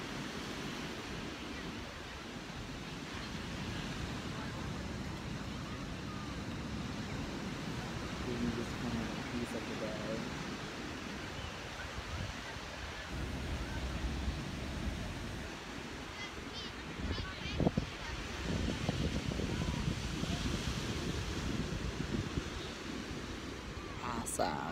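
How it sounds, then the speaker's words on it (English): Ocean surf washing in and out at Encinitas Beach, a steady broad roar with swelling crashes, wind buffeting the microphone, and a voice talking over it. "you can just hear that ocean, the way the ocean's crashing in and out"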